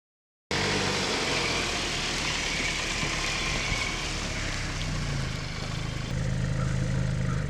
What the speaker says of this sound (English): We see a car driving in, the music crescendos